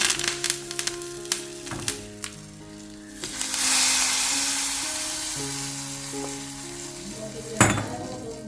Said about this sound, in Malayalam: കടുക്, ഉലുവ, പിന്നെ കുറച്ച് കാശ്മീരി മുളക് പൊടി, പിന്നെ വറ്റൽമുളക്, കറിവേപ്പില ഒക്കെ ഇട്ടിട്ട് നമ്മൾ മാമ്പഴ പുളിശ്ശേരി നല്ലോണം വറവിട്ടെടുത്ത്